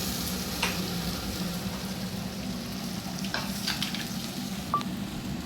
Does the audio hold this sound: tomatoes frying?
yes